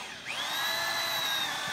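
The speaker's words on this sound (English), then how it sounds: "I'm going to drill that hole down probably about 5 or 6 inches or so." A power drill spins up and bores into a planter, a steady high whine that starts about a quarter second in and holds loud and close throughout, with no voices.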